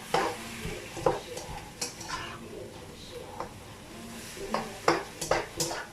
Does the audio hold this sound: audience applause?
no